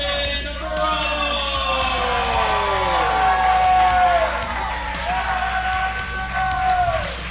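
A wrestling arena crowd cheers loudly for the winner, a sustained roar of shouts and whoops with rising and falling cries that swells and stays close and dense throughout.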